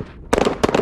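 AR-15 rifles fired at a shooting range, a rapid cluster of sharp, loud close shots in two quick bursts following a moment of quiet.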